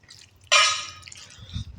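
A short liquid splash as vandikaran kuzhambu curry is poured onto a plate, starting abruptly and tailing off into soft dribbling, close and fairly loud.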